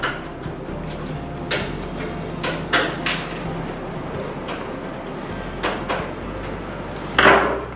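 Tiny screws are unscrewed from the back of a computer case, with scattered knocks, taps and clicks of the screwdriver and metal panel over a steady low hum, close by and with no talking.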